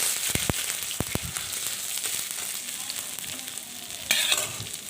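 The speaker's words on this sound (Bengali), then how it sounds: "দিয়ে আমি এর মধ্যে দিয়ে দিচ্ছি হাফ চামচ আদা বাটাটা দিয়ে একটু তেলের মধ্যে নাড়াচাড়া করে নেব" Half a spoon of ginger paste is stirred into hot oil in a pan, with a steady sizzle and sharp scraping strokes of the spoon, close and clear with no talk.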